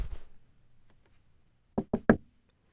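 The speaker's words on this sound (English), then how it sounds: "Then came 3 more knocks, more impatient than the first." Three sharp, impatient knocks on a door come in quick succession after a brief muffled voice and near silence, close and distinct.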